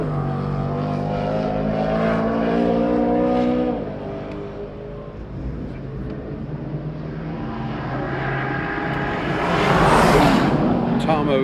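A race car on a 2021 AMP morning session sweeps past the finish line, its engine droning steadily then dropping and rising again into a loud, brighter passing roar near the end; a voice talks over it.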